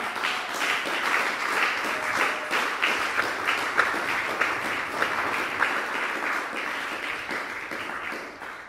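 A church congregation applauds together, a dense steady wave of clapping lasting several seconds before fading slightly at the end, with no voices over it.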